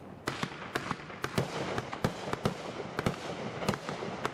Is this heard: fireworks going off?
yes